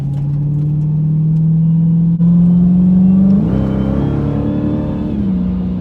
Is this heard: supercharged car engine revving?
yes